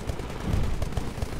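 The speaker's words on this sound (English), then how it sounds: "there's a lot of gunfire outside" Sustained gunfire from the shooter game Titanfall during a Hardpoint Domination match, a dense rattle of rapid shots and distant booms rolling steadily at fairly constant loudness with no speech over it.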